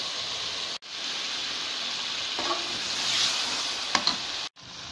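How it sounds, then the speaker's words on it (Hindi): Meat for a Peshawari charsi chicken karahi frying over high heat, a loud, dense sizzle with stirring scrapes and small clatters, close up, briefly cut off at the start and end. "तेज आंच पर फ्राई करना है गोश्त को।"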